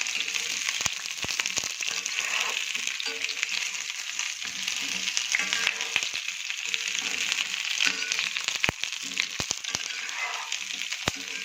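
Whole onions fry in oil in a pan, a close, steady crackling sizzle broken by frequent sharp clicks and taps of a spoon stirring them.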